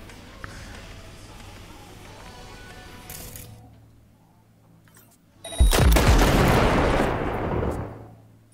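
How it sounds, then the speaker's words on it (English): A loud explosion bursts in the Cyberpunk 2077 Phantom Liberty video game after a stretch of quieter game ambience, with a sharp onset and a rumbling tail that lingers for a few seconds. "let me see if I can explode this fucker"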